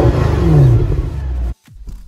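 A Mercedes E63 AMG of the W211 generation revs hard, its loud engine note climbing for about a second and a half before cutting off abruptly, followed by a brief quieter burble.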